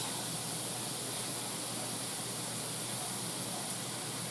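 Squash and steak sautéing in a pan, a steady broadband hiss of frying that holds constant and fairly quiet throughout with no talking.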